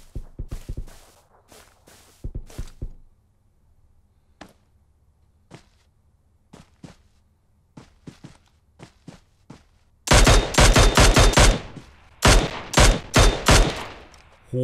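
Gunfire in the PUBG Mobile video game: a few sharp shots and thuds up front, sparse single cracks through a quiet middle, then a loud rapid burst of automatic fire near the end.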